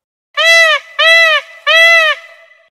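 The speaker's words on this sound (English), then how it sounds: "Peacock." Peacock call from an animal sounds app: three loud, harmonic, honking wails in a row, each about half a second long, clean and close, with no other noise around them.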